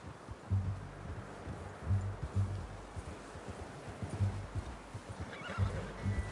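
A horse in Red Dead Redemption 2 gives a loud, close whinny against a backdrop of rhythmic clip-clopping hooves, with faint rustling around it and no voices.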